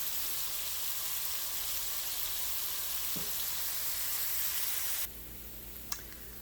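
Sausage browns in a frying pan on the stove, a steady loud sizzle and hiss that suddenly drops to a quieter crackle near the end, with a couple of soft clinks.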